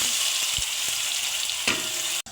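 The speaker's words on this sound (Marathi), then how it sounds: "वाटण केलेला मसाला घालून घेऊ." Oil sizzles and crackles steadily in a kadhai as a thick ground masala paste fries for egg curry, with a few soft stirring scrapes.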